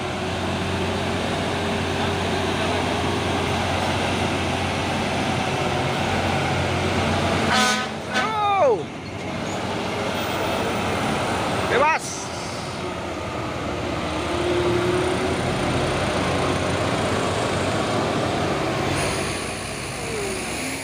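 A loaded dump truck and a 6x2 truck drive past on a road, a steady heavy engine rumble with horn blasts partway through and brief closer roars.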